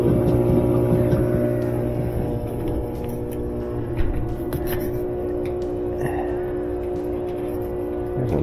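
A GE washer motor with a repaired speed sensor spins up on a test rack, a steady motor hum and whine with some clatter, rising gradually and heard close.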